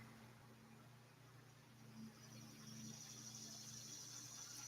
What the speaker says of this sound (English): You hear how the cicadas picked up?